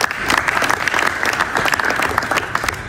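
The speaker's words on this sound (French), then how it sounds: "qu'on peut applaudir s'il vous plaît" An audience at a press conference for a 100%fight event breaks into loud, continuous clapping, a dense wash of hand claps with faint voices mixed in.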